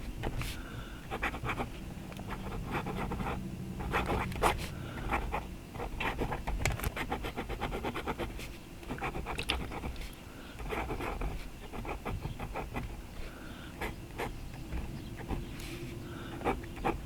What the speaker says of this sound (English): this medium nib writes like a fine, almost to the extra fine category